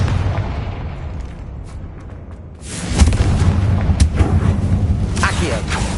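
A heavy magical blast from the Confringo spell in Hogwarts Legacy on PS5 erupts midway, a booming burst that follows a quieter stretch and rumbles on with crackling debris as a voice speaks over the game sound.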